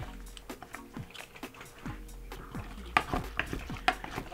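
A mixture with elengi is stirred in a bowl, giving a series of soft, close scraping strokes and light clinks against the bowl, with a few sharper taps near the end.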